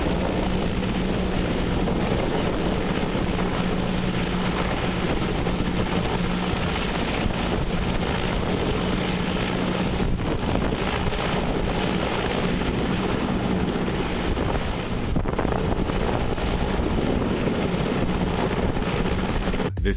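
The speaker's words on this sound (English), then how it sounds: "This helicopter creating a huge dust cloud." A helicopter flies low, kicking up a huge dust cloud, heard as a constant loud rushing drone with heavy wind buffeting, steady for the whole stretch without voices.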